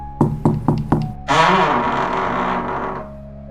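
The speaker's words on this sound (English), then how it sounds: "At 6:30, there was a knock." Four sharp knocks on a door in an even rhythm, close and loud, followed by a swelling reverberant musical drone that fades out.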